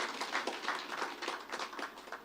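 Audience applause at a stock exchange listing ceremony for Zichis Agro Allied Industries PLC, a short burst of many hands clapping in an irregular, steady patter that stays at a fairly even level throughout.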